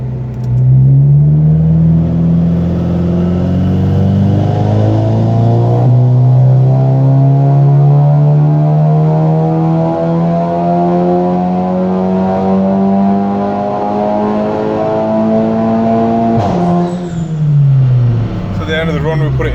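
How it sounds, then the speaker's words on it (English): A Seat Leon Cupra with a stage 3 hybrid turbo runs up on a dyno, its engine note climbing steadily and loudly through a long pull before easing off and then revving again near the end. "this is your first person POV to a dyno run on the NVM460G."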